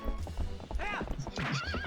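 A horse in the Zelda: Twilight Princess video game neighs loudly in two rising-and-falling whinnies over steady clip-clopping hooves, close up and busy throughout.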